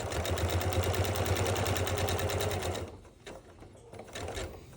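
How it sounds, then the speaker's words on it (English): A sewing machine stitches binding down on a quilt with a fast, steady mechanical whir that runs for about three seconds, then stops, followed by a few faint handling clicks and a brief soft burst of motor noise. "I'm going to go ahead and start sewing down to the corner."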